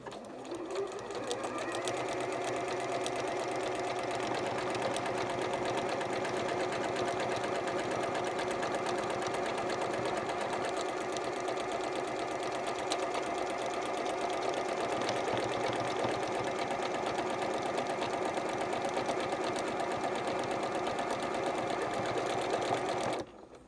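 A sewing machine stitching a buttonhole on a summer dress hums and whirs continuously at close range for over twenty seconds, a steady rapid mechanical buzz that stops abruptly at the end.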